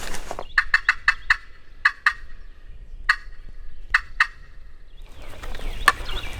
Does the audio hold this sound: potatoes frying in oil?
no